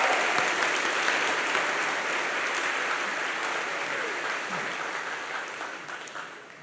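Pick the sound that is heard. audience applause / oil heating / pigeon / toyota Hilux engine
audience applause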